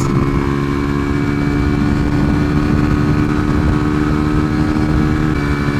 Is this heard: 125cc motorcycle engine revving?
yes